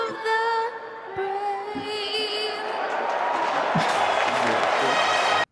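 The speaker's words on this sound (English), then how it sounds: "They cheering because it's over." Crowd cheering at a basketball game, a dense roar of many voices that swells steadily and stays loud throughout, with some whistling.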